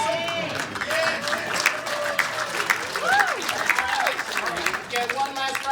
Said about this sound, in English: Get one last round of applause